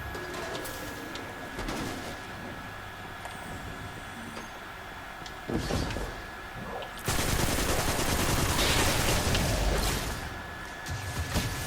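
Rapid gunfire from a shooter game, Destiny 2: Beyond Light, erupts loud and dense over a steady ambient bed, with an earlier burst of shots before a sustained barrage takes over the second half.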